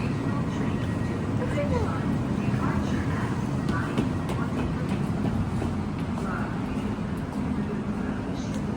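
A train rumbles along steadily near Mürren, Switzerland, a continuous low rolling drone with faint rattles, while people talk quietly over it.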